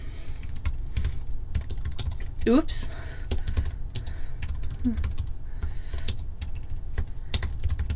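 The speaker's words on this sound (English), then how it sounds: "Gracious with the bad typing today." Computer keyboard typing during a recorded R statistics lecture: a steady run of quick, close clicks and key taps throughout, with a brief spoken interjection partway through.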